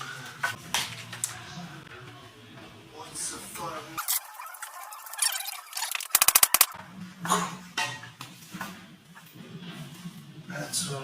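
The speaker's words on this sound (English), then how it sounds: "Of course, I go shoot the last 2 shots, and I'm out of nails." Pneumatic nail gun driving nails into 44-year-old cedar window jambs, a quick cluster of sharp, loud cracks near the middle, with talk before and after the shots.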